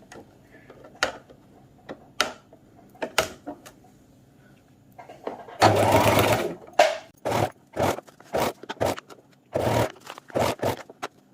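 Domestic sewing machine stitching a capri trouser hem, with short bursts of rapid mechanical stitching separated by pauses, then a longer continuous run followed by a string of quick stop-start bursts, close up.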